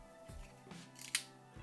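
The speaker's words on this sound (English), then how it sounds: "So that's the shutter working." A Pentax 17 film camera fires its shutter several times: quiet, soft mechanical clicks and small whirs, close up in a near-silent room.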